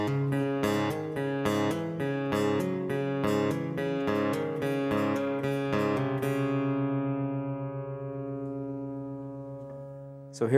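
Guitar plays a measure of a song: a quick run of picked notes over a low repeated bass note, then a held chord rings out and slowly decays; close, clear, no talking.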